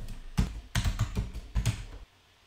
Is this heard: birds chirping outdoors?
no